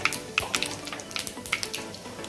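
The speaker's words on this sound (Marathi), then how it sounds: "आता आपली मोहरी छानपैकी तडतडली आहे" Mustard seeds splutter in hot oil while tempering for a raw jackfruit curry, giving a light, close crackle of scattered pops and sizzles with no voices.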